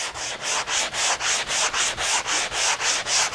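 Balsa model airplane wing sanded by hand with light pressure, giving about a dozen quick, even back-and-forth rasping strokes in a steady rhythm, close and clear with no talking.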